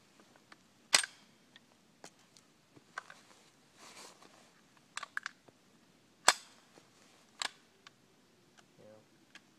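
Shots from a Ruger 10/22 Archangel Marauder semi-automatic rifle: a few sharp, separate cracks spread irregularly over several seconds, with quieter clicks and handling noises between them in an otherwise quiet outdoor setting.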